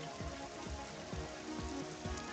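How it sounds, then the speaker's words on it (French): Rain falls in a lumberjack simulator video game, a steady close patter of drops on surfaces with irregular low thuds underneath, continuous and even, with no talk. "En plus il pleut"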